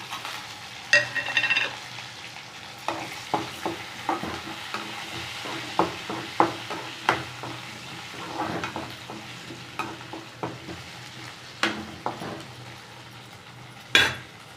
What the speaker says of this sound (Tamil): வெங்காயம் வதங்கிடுச்சு இப்போ கொஞ்சம் உளுந்து போட்டுக்கலாம்